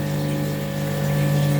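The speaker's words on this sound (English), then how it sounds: "if you need a serious air pump, these things are nuts. I didn't realise just how much air they pump out" A powerful air pump running on a large fish tank gives a steady, loud, continuous hum with strong tonal drone and a constant watery churn, close and unbroken throughout.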